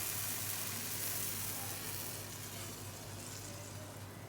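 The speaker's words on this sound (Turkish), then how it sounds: "Şimdi şerbetimizi veriyoruz." Cold syrup poured onto hot, freshly fried Nevzine dessert sets off a loud, continuous hiss and sizzle, close up, easing slightly as it goes on.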